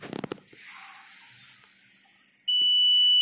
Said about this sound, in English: Now the buzzer will be activated.